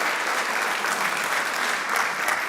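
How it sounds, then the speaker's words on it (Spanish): A church congregation gives loud, sustained applause, dense clapping that holds steady throughout the short stretch. "dale un fuerte aplauso a Dios"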